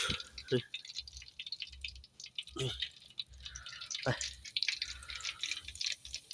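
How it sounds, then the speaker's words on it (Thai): Fish balls and sun-dried fish frying in hot oil in a homestyle kitchen give a steady, dense crackle throughout, with brief voice fragments over it. "ตอนนี้ก็กำลังทอด ดีสุกแล้ว ครับ"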